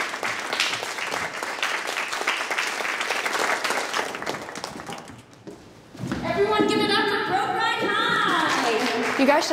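A crowd applauds and cheers after a cheerleading performance. Rapid clapping comes first, dips briefly, then returns louder with voices cheering over it.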